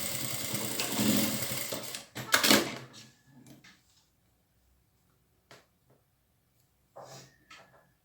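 A sewing machine with a general-purpose presser foot stitches a fabric bag strap. It gives a steady mechanical whir for about two seconds, then clunks and handling noises follow, and a brief quiet buzz returns near the end.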